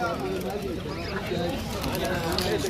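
Pigeons coo amid busy crowd chatter, with people talking nearby in a bustling, noisy Friday bird market in Muscat, Oman.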